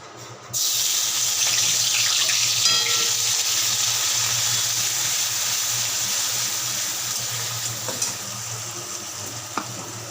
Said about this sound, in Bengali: তেল গরম হয়ে গেছে মাছগুলো ছেড়ে দেবো পেঁয়াজগুলো দিয়ে দেবো